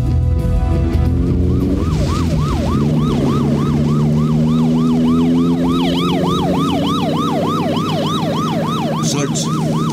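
Wailing police mobile siren in a Filipino drama, sweeping up and down in a steady repeating cycle, loud and close over a running vehicle's engine hum, with no voices.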